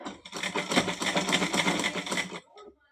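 A sewing machine runs in one fast, steady burst of stitching along a pillow cover, close and loud for about two seconds before stopping, followed by faint handling sounds.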